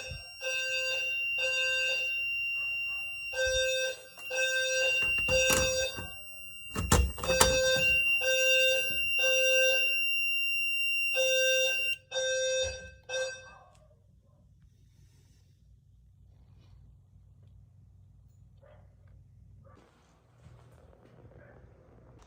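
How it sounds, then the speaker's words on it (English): A building fire alarm system sounds during a routine test, a loud repeating electronic tone in rhythmic bursts with pauses for about thirteen seconds, then it stops and leaves only low background hum. "Sorry about the fire alarms, Jackson."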